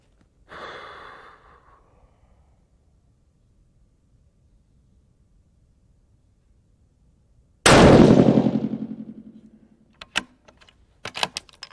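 A rifle fires a single loud, sharp shot at a long-range target, with a booming report that decays slowly. A softer breath-like noise comes before it and a few clicks follow.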